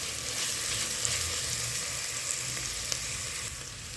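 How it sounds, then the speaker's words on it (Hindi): Ginger-garlic paste fries in hot oil for Bhopali korma, giving a steady, even sizzle that stays close and fairly quiet for the whole stretch with no talking. "ये अब मैं इसमें लहसुन अदरक डाल देती हूँ और थोड़ा सा इसे भून लेंगे।"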